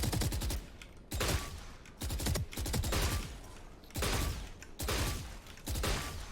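Gunfire in the video game Valorant: repeated short bursts of rapid, loud automatic shots separated by brief pauses, with no voices.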